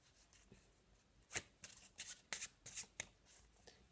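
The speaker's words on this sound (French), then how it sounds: "on fait donc le faux mélange de tout à l'heure" A deck of playing cards given a false shuffle, heard as a string of crisp, close riffling bursts and snaps in an uneven rhythm, with no voice.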